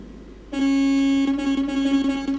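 A Ford F-Max truck horn in Euro Truck Simulator 2 blares once, a loud steady tonal blast lasting about two seconds with a slight wavering, heard close and alone.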